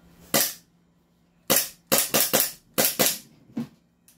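An airsoft gun fires about eight sharp, loud cracks, one alone, then a quick cluster of shots and a fainter final pop, each ending abruptly into near silence.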